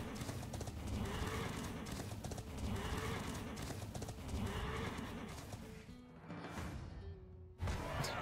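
Horse whinnies and neighs with clip-clopping hooves from the Dreadsteed card in the Hearthstone video game, several loud calls layered over a dense, busy game backdrop with no talk.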